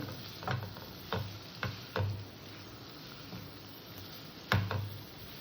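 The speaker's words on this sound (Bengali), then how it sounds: "আলু ফুলকপি দিয়ে আমি আর একটু হালকা পাতলা কষা দেবো" Potatoes and cauliflower, already fried, being lightly sautéed and stirred in a pan with shrimp curry ingredients, giving soft sizzling under periodic scraping knocks of a spoon against the pan.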